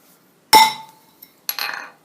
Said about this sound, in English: I'm just putting a little washer over the top of them, just to protect the area around where the ball seats, and just give them a couple of gentle taps in